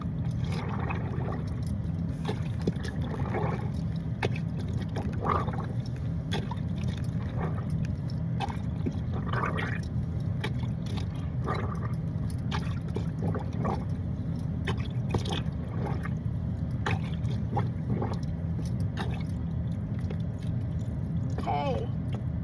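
Plunger agitating soapy water to wash a pair of slacks inside a Prius, faint repeated sloshing and gurgling strokes with drips, steady low rumble underneath and occasional talk.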